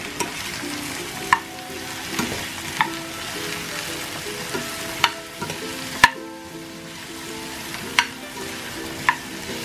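Shrimp and corn cooking in a pot sizzle steadily, with intermittent sharp clicks and scrapes of a utensil against the cookware, close and fairly loud.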